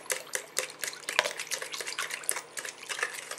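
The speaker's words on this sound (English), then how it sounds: "I'm going to stir it with the eggs" Carrot cupcake batter being stirred with eggs and water in a bowl, giving a string of quick, close clinks and wet scrapes in an irregular rhythm.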